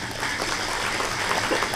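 Applause from a seated audience at a public talk in Central Java, a steady dense patter of many hands clapping at moderate distance, filling the short moment without any voice.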